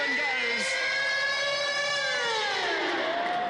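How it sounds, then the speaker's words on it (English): Full-time siren sounding at a rugby league test match between Australia and New Zealand, a long wailing tone sliding slowly downward over several seconds, loud and sustained over crowd noise. "As the siren goes."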